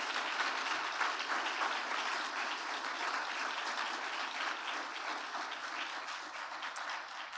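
A symposium audience applauds in steady, dense clapping that fills the room and continues for several seconds without a break before easing off slightly near the end.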